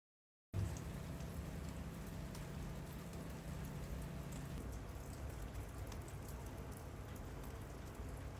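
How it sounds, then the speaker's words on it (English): Steady rain and gusting wind batter a camping pod at a Lake District campsite near Pooley Bridge, a dense continuous wash of drops that holds at an even level throughout, with no voices. "It's very windy, very wet. Much more rain than there was last week."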